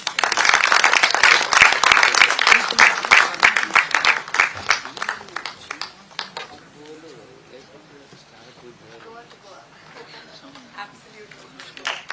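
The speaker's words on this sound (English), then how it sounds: "I also ask our delegates to give her a big round of applause" Conference delegates give a big round of applause as someone comes on stage to accept a memento, dense clapping for about five seconds that thins into scattered claps and fades under a quieter room tone.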